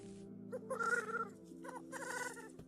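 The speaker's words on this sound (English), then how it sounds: "I like this bird, though. This bird is great." A bird calls in the Minetest video game: two faint, close bursts of rapid, clucking, chicken-like notes over a steady low background drone.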